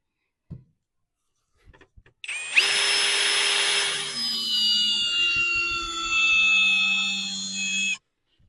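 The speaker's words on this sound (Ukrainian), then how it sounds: "І беремо 130-й турбошуруп і починаємо крутити." A Sturmax 20V cordless drill driver drives a 130 mm turbo screw into wood, a loud, near motor whine rising and straining for about six seconds after a few faint clicks, then stopping abruptly.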